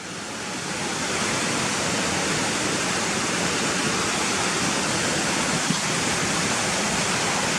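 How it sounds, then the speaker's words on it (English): Steady, loud rush of a stream tumbling over rocks at Gunnerside Gill, a continuous broadband roar that swells in during the first second and then holds constant. "you can see the water coming over the white water"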